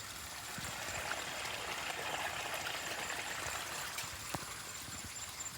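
A stream of water trickles and flows steadily through a rubber plantation after rain, a soft, continuous gurgling heard at a distance with no voices over it.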